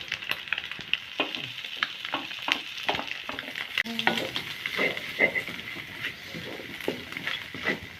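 Green chilli, carrot and cabbage frying for chicken kottu roti, stirred with quick, uneven scraping and tapping strokes over a constant close sizzle, with no voices.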